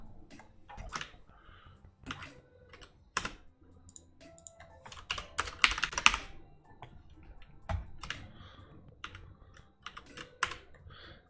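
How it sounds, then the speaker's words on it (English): Someone types at a computer keyboard, close-up clattering keystrokes coming in uneven bursts with short pauses, clear and fairly loud, with no talking. "let me type"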